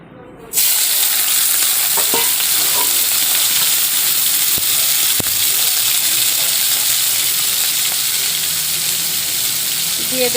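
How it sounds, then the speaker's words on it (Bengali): Prawns frying in hot oil in a wok for a jackfruit curry, a loud, steady sizzle that starts abruptly and continues unbroken and close. "কড়াইয়ে দিয়ে দেব তেল চিংড়ি মাছ ভাজার জন্য।"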